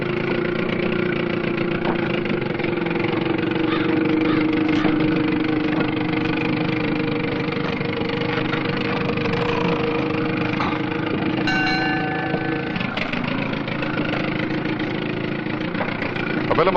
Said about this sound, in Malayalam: താണ്ട ബോട്ട് വന്നു.